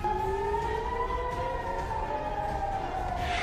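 Air raid sirens in Israel during an Iranian ballistic missile attack wail with a steady, slowly sliding tone, continuous, loud and unbroken, over a low rumble of background noise.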